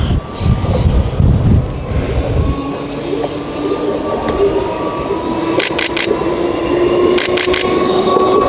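A Brighton to Seaford passenger train rumbles past close by at Newhaven, its wheels clattering steadily with squeals and brief sharp clicks from the rails over a constant loud roar.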